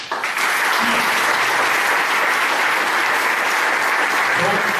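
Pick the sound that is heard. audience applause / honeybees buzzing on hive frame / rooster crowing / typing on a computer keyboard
audience applause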